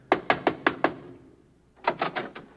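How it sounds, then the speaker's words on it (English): Knuckles rap on a door in two bursts: five sharp, evenly spaced knocks, a short pause, then a quicker cluster of four, close and clear with no talk. "Yeah, Dean, let's knock."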